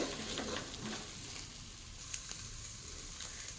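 A dal mixture fries in a pan with a soft, steady sizzle and occasional faint crackles, low in level and without any voices.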